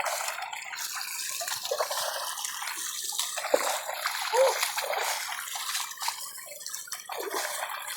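Water splashing from a water pump during an outdoor bath in the middle of a farm field, a continuous bright spatter with no pauses and occasional louder splashes, close and steady throughout.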